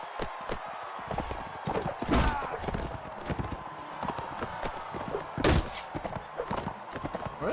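Horse hooves clatter in a quick irregular rhythm in Mount & Blade: Warband, mixed with game combat noise and two sharp loud impacts, while someone talks over them.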